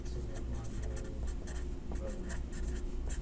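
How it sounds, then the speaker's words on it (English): Marker or chalk scratching across a board in a lecture hall during a lecture on seven segment displays and traffic light controllers, steady short strokes close by over a constant room hum, with faint background voices. "I can directly write it down here for you"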